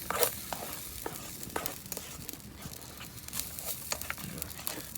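Chicken curry sizzles in pans on a camping stove while being stirred, with steady frying hiss broken by frequent scraping and clinking of the pans, close and continuous.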